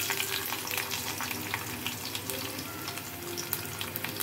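Garlic and other tempering spices fry noisily in hot oil in a pan, a steady close crackling sizzle with occasional stirring throughout.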